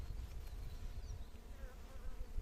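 A steady, low insect hum of many honey bees buzzing together inside an open hive, close and continuous, with faint higher whines drifting over it.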